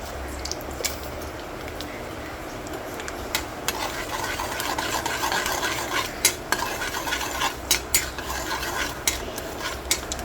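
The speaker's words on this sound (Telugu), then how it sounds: "పోపు బాగా వేగనివ్వాలి" Mustard seeds and urad dal fry in oil for tempering with a low sizzle while a spoon scrapes and stirs the pan, with occasional metallic clinks.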